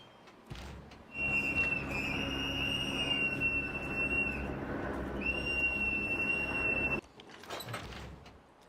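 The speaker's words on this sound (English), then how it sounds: "all around the Twin Cities, you hear these ear-piercing whistles" Activists at protests in the Twin Cities blow ear-piercing whistles, a loud, sustained shrill tone held for several seconds with one brief break before it resumes.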